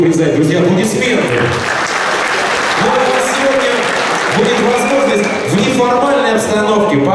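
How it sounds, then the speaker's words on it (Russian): A crowd of football supporters applauds loudly and steadily at a fan meeting with the FC Ryazan club, with talk and cheering voices mixed into the continuous clapping throughout. "Друзья, аплодисменты!"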